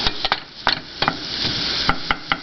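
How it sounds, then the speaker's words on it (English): Garlic sautéing in a pan while making organic winter squash soup, a low steady sizzle broken by sharp irregular clicks and taps of a utensil against the pan, close and fairly loud, no talk. "we're going to just give that a little sauteing motion. Make sure your garlic is not burning."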